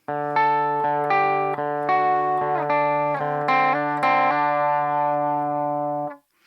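A clean electric guitar with no effects plays a short sequence of sustained notes over a held bass note, clear and unprocessed, ending with a final ringing chord that cuts off.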